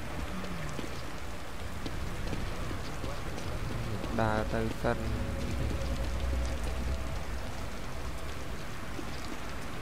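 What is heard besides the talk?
rain falling in video game The Evil Within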